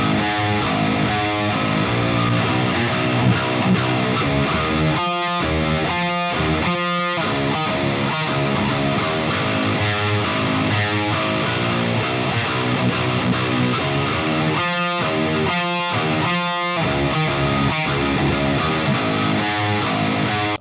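Heavily distorted metal guitar through a Neural DSP Granophyre amp with two speaker mics blended, playing loud chugging riffs with tight palm-muted bursts and brief stops, repeated in two similar phrases.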